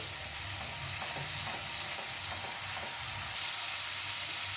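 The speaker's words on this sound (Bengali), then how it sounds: "পেঁয়াজ আর লঙ্কা হলুদটা আমার ভাজা হয়ে গেছে" Onion, chili and turmeric fry in a pan with a steady, close sizzle and soft crackling, plus light stirring scrapes throughout.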